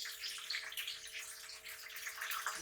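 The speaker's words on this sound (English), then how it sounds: "now I will add in a little bit of water" Water poured into a hot frying pan while cooking ayam lemak cili padi, a brief, steady hissing splash lasting a couple of seconds, alone without talk.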